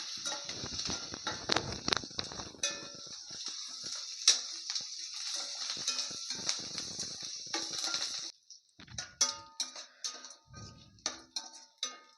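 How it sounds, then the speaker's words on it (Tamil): Finely chopped coriander leaves sizzle steadily in a pan while a Tamil greens poriyal cooks. The soft, continuous frying hiss gives way to a few light clinks of a utensil against the pan. "கொஞ்சம் மல்லித்தழை வந்து பொடியாக கட் பண்ணி வச்சுருக்கேன் அதையும் போட்டு நல்லா வதக்கிடுவேன்"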